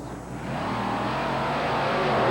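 A 1991 Ford monster truck called Four Wheel Crazy racing on an indoor track at the Houston Astrodome, its engine roaring loud and steady and building slightly in intensity, with no talk.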